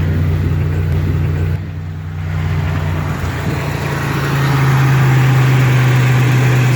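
A 1999 Chevrolet Malibu engine idling up close with its factory air intake, a steady low rumble that dips briefly and then settles into a slightly higher, even drone.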